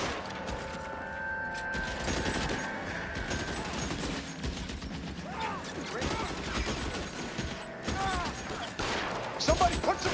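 Gunfire in the LA Noire video game, a dense continuous fusillade of shots with rattling mechanisms and crashes, loud throughout with game voices shouting under it.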